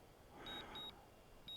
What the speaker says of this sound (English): I wanted to turn off this beeping. That's probably annoying you.